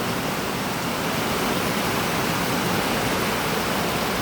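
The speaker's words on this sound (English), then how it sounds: "we're having a bit of a rain shower" An afternoon summer rain shower in Love Valley falling as a dense, even hiss of steady rainfall, constant and enveloping with no other sounds.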